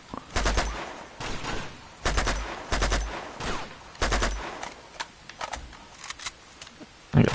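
Bursts of gunfire crack out in Uncharted 2: Among Thieves, several loud, close volleys and single shots spaced by short gaps over a low game backdrop.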